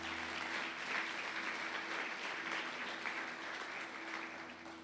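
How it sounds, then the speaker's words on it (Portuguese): A church congregation claps together in a steady, continuous wash of applause that holds at an even, moderate level throughout. "Aplauda o Senhor Jesus por isso."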